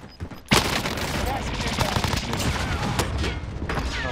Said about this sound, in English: I downed myself with the rocket.